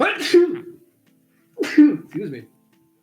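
A person sneezes during a webcam broadcast, one sharp burst followed by a second sneeze-like outburst after a pause, close to the microphone; a brief spoken apology follows.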